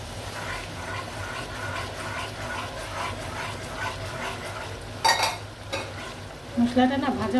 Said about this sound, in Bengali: মশলাটা না ভাজা ভাজা করে নিতে হবে, নইলে ঘেরান করবে না